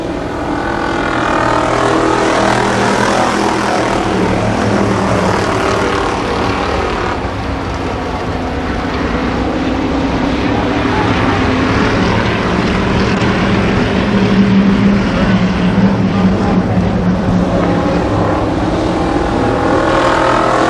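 ARCA Supercars race cars roar down the backstretch at Columbus Motor Speedway, a continuous loud engine drone from a pack of cars that swells and shifts in pitch as they pass, with no talk over it.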